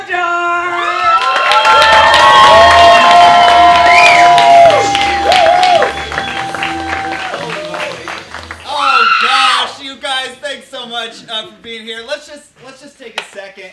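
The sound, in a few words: audience cheering and applauding at improv festival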